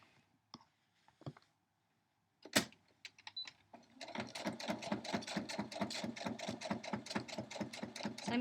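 A sewing machine stitches a fleece border on a cat quilt block, running loud and steady with a fast even rhythm after a few scattered clicks and handling noises at the start.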